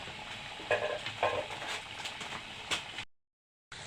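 Pakoras frying in fish oil in a pan, a steady soft sizzle with a few louder stirring scrapes and pops, close by, then a brief cut to silence before the sizzle resumes.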